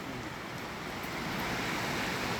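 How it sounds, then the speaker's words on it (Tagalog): A strong, fast-flowing river in Fiss, Tirol, Austria, heard as a steady, full rush of water that stays loud and even throughout, with no voices. "May ilog pa. Lakas ang ilog."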